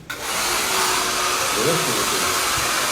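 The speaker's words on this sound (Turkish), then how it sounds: "Şimdi fönlensin." A hair dryer blows hair dry in a steady, loud, close whoosh that starts abruptly and runs on. A faint voice is heard briefly beneath it.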